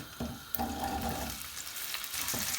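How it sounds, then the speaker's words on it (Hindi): Whole washed onions fry in about half a cup of hot cooking oil, a close, lively sizzle with bursts of stirring and scraping against the pan. "और हमने अनियन को फ्राई करना है।"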